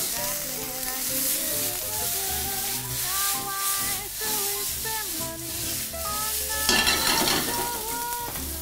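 Chiles and onion sizzle loudly in a pan while a utensil stirs and scrapes through them, a steady close frying hiss with musical tones from a song playing underneath.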